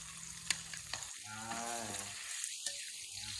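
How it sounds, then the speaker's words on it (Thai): Pork and garlic stir-fried in a pan with a spatula, giving a steady close sizzle with a few sharp metallic clicks and some tonal background sounds layered over the frying. "ใส่กระเทียมแล้วใส่หมูลงไปเลยค่ะ"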